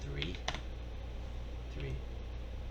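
A few quiet keystrokes tap on a computer keyboard as a number is entered, scattered single clicks over a low steady background hum.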